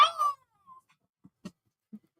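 A cat toy gives off a short electronic meow at the start, followed by a faint tone and a few soft taps and handling thumps.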